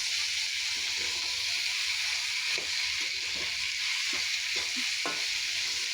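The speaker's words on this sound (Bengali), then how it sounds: "তো আমি আলুগুলো একসাথে মিশিয়ে নিলাম, নিয়ে সুন্দর করে এটা কষিয়ে নেব ভালো করে।" Potatoes fry with ground spice paste in a pan for a Bengali fig and prawn curry, a constant close sizzle broken by scraping, clacking stirs of a spatula at irregular intervals.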